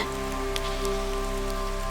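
Rain falls steadily on a surface, a continuous hiss of drops with a constant low hum beneath it, even in level throughout and without any talk.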